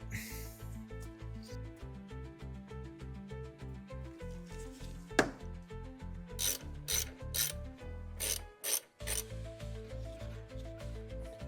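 Ratchet clicking as a wrench works a 15 millimeter nut loose on a V6 Ford Mustang thermostat housing, a rapid run of close, crisp clicks with a sharp crack and brief pauses partway through.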